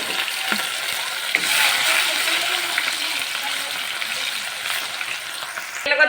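Onions dropping into a hot pan with meat and potatoes fry with a steady, broadband sizzle throughout, close and fairly loud, with a brief clatter near the end.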